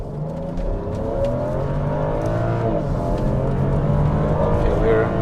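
A 2013 BMW X5 xDrive35i with the N55 engine accelerates steadily, its low engine drone rising under continuous road and cabin noise, with speech mixed in.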